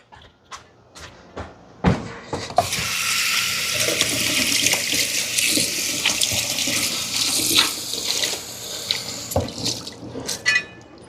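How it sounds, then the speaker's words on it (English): Tap water runs from a faucet to rinse a Magic Clean Eraser used on a ceiling fan, a steady close splashing rush framed by a few sharp knocks and clunks at the start and end. "I'm gonna go rinse the Magic Clean Eraser."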